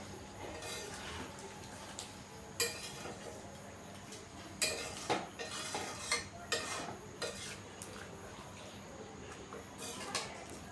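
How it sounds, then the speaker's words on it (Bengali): Masala for chicken biryani is stirred in a pot, a spoon scraping and clinking against the metal in irregular bursts over a faint background, quiet and close. "মশলাটাকে ভালো করে কষিয়ে নিতে হবে যাতে মশলার কাঁচা গন্ধটা না থাকে"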